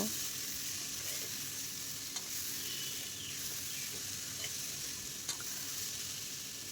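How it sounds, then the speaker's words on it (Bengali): Potato pieces fry in oil for a fish roe and potato dish while salt and turmeric are stirred in. The sizzle is a constant soft hiss broken by occasional scraping taps of the spatula, heard alone and fairly faint. "এখন এক চামচ লবণ দিয়ে দেব হলুদের গুঁড়ো দিয়ে দিলাম দিয়ে এটাকে নাড়াচাড়া করে নেব"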